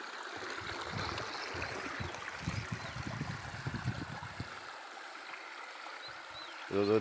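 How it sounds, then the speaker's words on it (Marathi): Water pours from several pipes into a wide reservoir beside farm fields, a steady close rushing wash with some low rumbling bursts in the first part. "सुरू झालेलं आहे पाणी."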